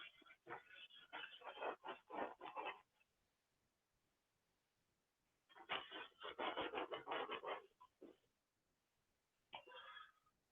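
Rubbing at a board during an online lecture on data compression and encryption, two long bursts of rapid back-and-forth scrubbing strokes separated by a quiet pause, then a short final burst, fairly faint and close.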